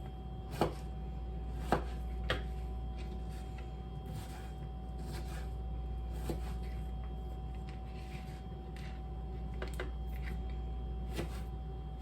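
A knife dices an apple on a cutting board, giving sparse, sharp taps spread out over a steady background hum, with no talking.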